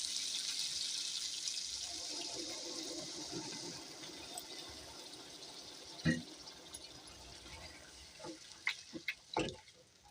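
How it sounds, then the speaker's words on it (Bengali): Water is poured into a pan of spicy fish and eggplant curry, a soft, faint trickle and splash, followed by a few clinks and sharp knocks near the end. "আমি জল দিয়ে দেবো হালকা করে"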